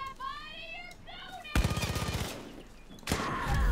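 Two bursts of rapid automatic gunfire in Far Cry: New Dawn, loud and close, each lasting over a second, after a quieter opening with tonal game sounds.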